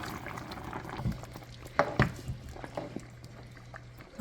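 Curry with cowfoot and tripe bubbling in a pot, a low simmering gurgle with scattered pops and a few louder splashy bursts, heard close and on its own.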